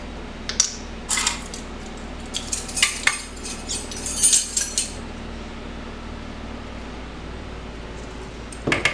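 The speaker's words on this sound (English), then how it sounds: "And then just finish mixing it." Banana fritter batter of mashed banana and flour being mixed in a bowl, with bright clinking utensil taps against the bowl in short bursts, then a long quiet stretch before a final few clinks.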